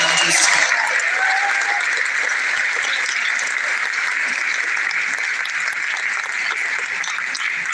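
Sustained applause from a graduation audience honoring special award winners and graduates, a dense steady wash of clapping that holds evenly throughout.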